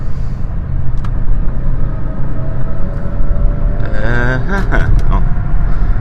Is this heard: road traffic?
yes